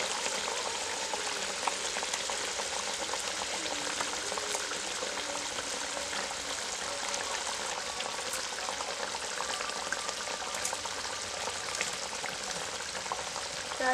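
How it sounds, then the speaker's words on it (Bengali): Ghee sizzling over bhetki fish cooking in a pan, a steady close frying crackle with fine pops running evenly throughout, no talk. "এবার উপর থেকে ঘি ছড়িয়ে দিচ্ছি।"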